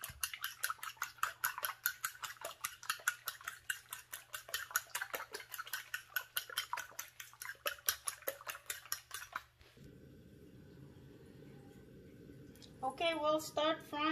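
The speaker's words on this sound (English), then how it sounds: "And we're gonna beat our eggs." Rapid metallic clinking of a fork beating eggs in a bowl while cooking crispy pork chops, a steady fast rhythm close by for about ten seconds, followed by quieter kitchen sounds.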